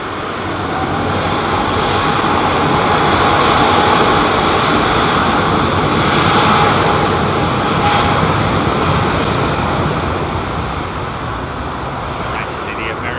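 A jet airliner departs London Heathrow Airport with a loud, sustained engine roar that swells and slowly fades across the takeoff, while people talk over it.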